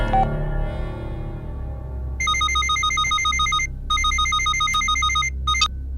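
A telephone rings in repeated electronic bursts with short gaps between them, fairly loud over a low steady background hum.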